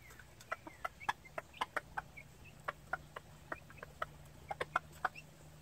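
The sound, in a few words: hen clucking with chicks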